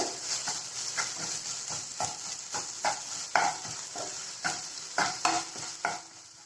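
Egg and vegetables being mixed with pepper powder in a pan over a low flame: a soft continuous sizzle under steady, evenly spaced spatula scrapes, roughly two per second, close and alone.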